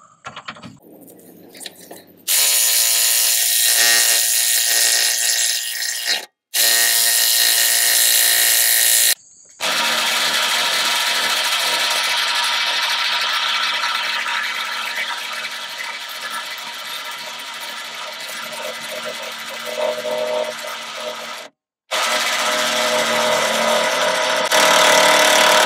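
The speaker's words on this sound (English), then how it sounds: "And now we'll go ahead and remove this bolt from the torsion bar adjuster." A power tool, likely an impact tool, works a bolt out of a torsion bar adjuster on a 2002 Xterra 4x4 with a 3.3 engine, in several loud, sustained bursts separated by short silent gaps.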